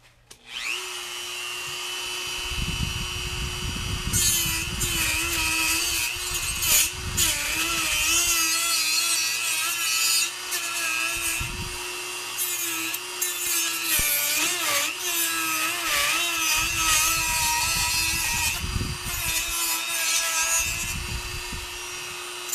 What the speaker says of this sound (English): we're going to turn on this Dremel, and I'm going to saw through the rest of the robot